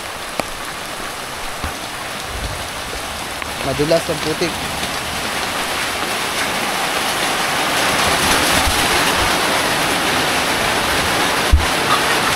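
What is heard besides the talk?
heavy rain falling on a farm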